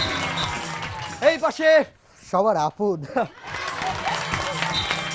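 An audience at an event claps and cheers in a steady wash of applause that fills the start and end, broken in the middle by a host speaking loudly over it.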